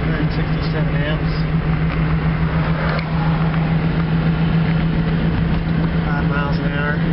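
A Geo Metro converted to electric drive cruises in fifth gear, giving a steady low drive hum with road and cabin noise throughout.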